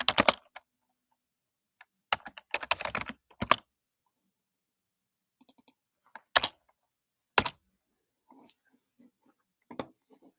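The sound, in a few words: typing on a computer keyboard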